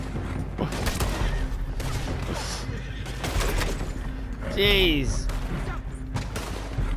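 Gunfire in the online Western game Red Dead Redemption 2 Online: a cluster of sharp shots and thuds under a player's talking and game noise, with a rising whistling sound partway through.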